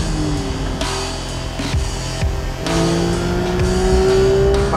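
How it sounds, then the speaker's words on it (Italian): A Porsche 911 GT3 engine revving high toward 9000 rpm on track, loud and close, with rising and falling shifts between gears and a sustained high-pitched wail, no talking. "Senti il motore quando arrivi a 9000"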